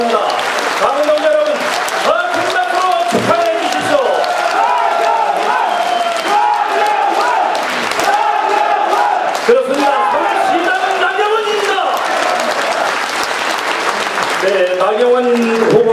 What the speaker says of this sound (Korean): 여러분 축하 축하의 박수를 보내주시기 바랍니다